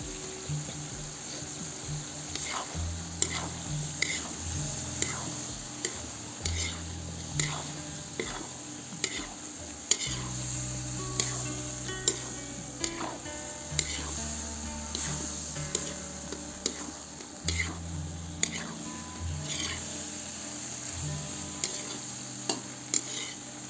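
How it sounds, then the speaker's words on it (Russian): Potatoes frying in a kazan over a wood fire for Uzbek mastava soup: a continuous oily sizzle broken by repeated scraping and clinking stirs, with a faint high insect-like whine behind. "Теперь добавляю в казан картошку и обжарю также несколько минут."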